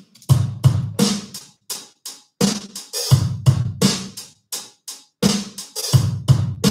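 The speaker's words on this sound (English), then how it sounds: "snare hit on two and four, and that sounds like this." Sharp snare drum hits land in a steady backbeat, crisp percussive strikes spaced evenly and alternating with softer low thumps, loud and close.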